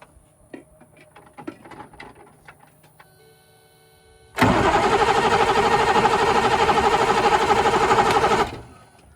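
A few faint clicks and ticks, then a piece of race track equipment's engine abruptly bursts to life and runs loud and steady for about four seconds before cutting off.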